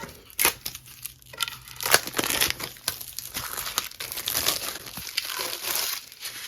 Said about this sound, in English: I'm going to go ahead and open up my transfer tape.